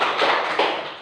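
A small group of people, likely schoolchildren in a classroom lesson, clap together in a short burst of hand claps that is fairly loud and close. A voice may be murmuring underneath.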